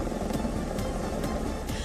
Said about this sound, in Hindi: ऑरेंज काउंटी में हेलीकॉप्टर से लटक रही रस्सी के जरिए एक फायर फाइटर नीचे उतरता दिखा।